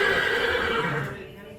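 An Arabian horse whinnies loudly and close, a drawn-out neigh that fades away over about a second and a half, with no talk over it.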